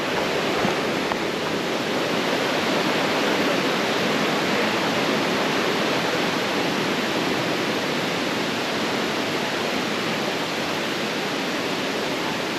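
Fast-flowing river water at the Sungai Chiling waterfall in Kuala Kubu Bharu: a loud, constant broadband roar of rushing water with no break.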